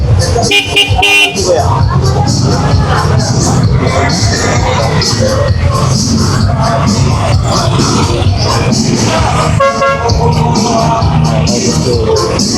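Busy Divisoria market street on a crowded Saturday, with car horns tooting repeatedly over a loud, constant wash of traffic and crowd noise, voices talking throughout.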